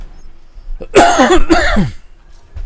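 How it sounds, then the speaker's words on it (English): A single close, loud cough with a throat-clearing quality, heard during a ranked match of an online shooter on the Dorado map, brief and alone against quiet background. "Oh, coughing."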